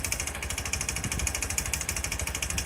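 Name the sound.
motorcycle engine knocking from a bad connecting rod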